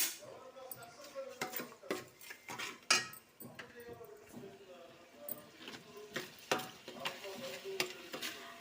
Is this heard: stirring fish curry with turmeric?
yes